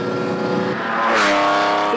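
A Lamborghini Countach sports car drives past with a loud, steady engine roar that swells and shifts pitch midway, its harmonic tone close and continuous.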